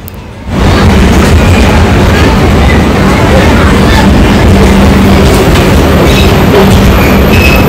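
The Janshatabdi Express from Ratnagiri to Thane (12052) rumbles past on its rails, starting suddenly and holding a loud, continuous roar with rhythmic clatter, very close.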